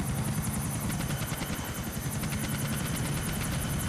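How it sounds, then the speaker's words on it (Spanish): A helicopter in the video game GTA IV: The Lost and Damned drones with steady, loud, close rotor chopping and engine whine throughout, with no talking. "Maldito helicóptero de mierda."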